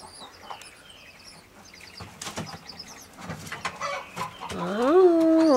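Laying hens cluck in scattered, uneven bursts at close range, growing louder toward the end where a drawn-out, wavering squawk rises above the flock.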